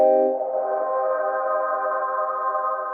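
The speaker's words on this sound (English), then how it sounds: "Standard reverb plus effects are covered." A sustained, shimmering guitar tone through a UFX Reverb pedal rings out with a washy reverb tail, holding steady and smooth after a brief initial attack.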